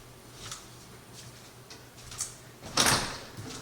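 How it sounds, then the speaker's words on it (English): A back door at home swings open, giving a soft click and a faint scrape, then a louder rushing sound near the end, heard alone and fairly quiet. "My back door just opened."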